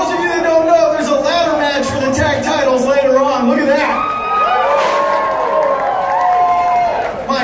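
A packed arena crowd at a TWF wrestling show cheers and shouts continuously under a commentator's voice, a steady loud roar throughout.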